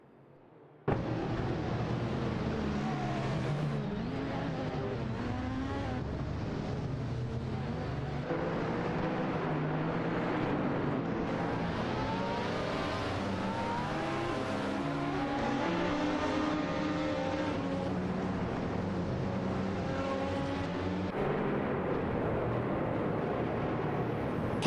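Race cars in an AI-driven racing video game roar continuously, their engine notes rising and falling in overlapping sweeps as several cars jostle for position, with no talking.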